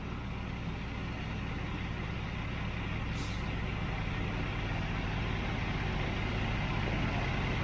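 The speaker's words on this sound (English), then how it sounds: "Okay, 2 trucks, 6 yards in each one." Concrete delivery trucks arriving at a patio job site, a continuous low engine drone with a short hiss of air brakes partway through.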